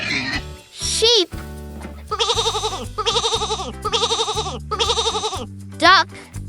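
Sheep bleats in a row of four wavering, evenly spaced calls, loud and close, with a shorter bleat at each end, over a steady cheerful backing tune.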